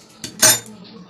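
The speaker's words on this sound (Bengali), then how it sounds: "দিয়ে আবার কড়াটা বসিয়ে দিলাম" A metal karai set back down on a kitchen stove gives a short clink and then a louder metallic clatter, close and brief, during cooking of a mango pickle.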